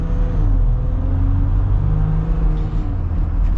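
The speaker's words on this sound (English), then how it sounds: "So we're gonna get up and get our acceleration here at the Eco-Diesel." A 2023 Jeep Gladiator Rubicon EcoDiesel with a turbocharged diesel accelerating, a loud, steady low engine rumble and drone heard from inside the cab, rising gently and continuous throughout, with no voices.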